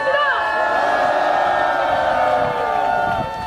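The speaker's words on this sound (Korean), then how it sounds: "다시 한 번 뜨거운 박수 부탁드리겠습니다." A crowd at an outdoor candlelight rally in Gwanghwamun Square responds with loud cheering and whooping, many voices rising and holding together in a sustained roar.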